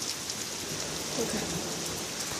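Steady heavy rain from a thunderstorm pours down continuously, a dense even hiss that fills the whole stretch with no pauses, fairly close by.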